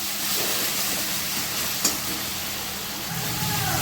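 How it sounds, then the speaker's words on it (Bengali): Ginger paste frying in a pan for a mixed vegetable dish gives a close, steady hiss of sizzling oil. One brief sharp crackle pops out midway, and no one speaks. "দিয়ে একটু ভেজে দেবো আদা বাটাটা"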